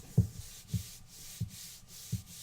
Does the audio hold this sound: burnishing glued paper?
yes